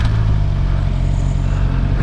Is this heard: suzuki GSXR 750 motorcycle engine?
yes